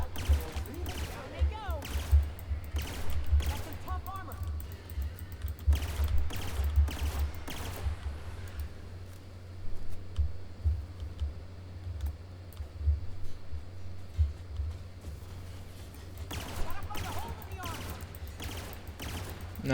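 Video game gunfire: rapid bursts of sharp shots in clustered volleys, broken by quieter stretches, with steady low background rumble and a person talking in between.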